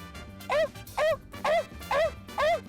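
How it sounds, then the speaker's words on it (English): Five loud, honking horned screamer calls repeat at a steady pace, each a short rising-falling cry standing out clearly over a low background murmur. "The Horned Screamer is known as the unicorn of the bird world"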